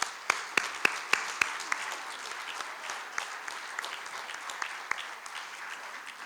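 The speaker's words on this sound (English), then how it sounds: "so we can give you guys a round of applause too" Audience applause at a community awards ceremony, opening with a few sharp, close single claps over a broad, steady patter of many hands that carries on evenly.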